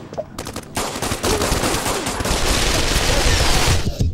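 Rapid automatic gunfire in the Pavlov VR gun game mode, a dense unbroken burst of loud shots building over several seconds before cutting off.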